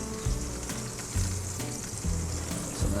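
Prime rib searing in a hot pan, with a steady background sizzle broken by several louder bursts of spitting fat and low thumps, fairly close and without talk.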